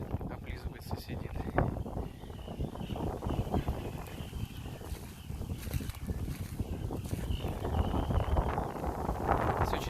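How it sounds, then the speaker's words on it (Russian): Strong wind gusting outdoors by a campfire in the countryside near Voskresensk, roaring and buffeting the microphone steadily for the whole stretch, with rustling and faint movement underneath. "Здесь очень ветрено."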